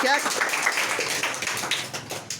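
Scattered clapping from children at a village quiz competition in Prayagraj, Uttar Pradesh, uneven claps rising and falling in strength, with a voice speaking over the start.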